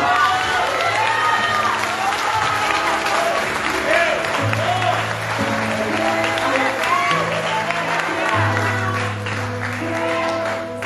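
A church congregation applauds at a thanksgiving service, steady clapping and cheering from many people filling the space, with sustained music tones running underneath and voices mixed into the crowd noise throughout.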